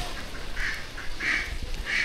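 Ducks quacking outdoors in repeated nasal bursts of varying length, moderately close, over a faint background hum.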